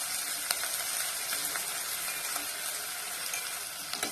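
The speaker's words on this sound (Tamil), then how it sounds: "எல்லாத்தையும் நல்லா பரட்டி விட்டுக்கோங்க. வெங்காயம் நல்லா வதங்கணும்." Chopped onions sprinkled with salt sautéing in a pan for poori masala, giving a constant bright sizzle with occasional soft clicks of a spatula stirring, close and even.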